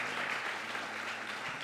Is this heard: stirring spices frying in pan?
no